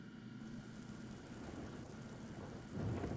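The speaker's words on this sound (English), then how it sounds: "Didn't he say we never get rain here?" Thunder and steady rain in the video game Death Stranding, a continuous hiss of rainfall with a low rolling rumble swelling louder near the end, no voices.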